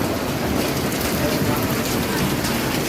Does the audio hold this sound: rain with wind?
yes